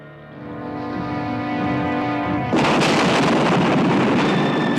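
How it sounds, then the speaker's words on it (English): An explosion tears through a bunker in a film scene, a swelling low rumble that suddenly bursts into a loud, sustained roaring blast with no talk. "The explosion tears through the bunker,"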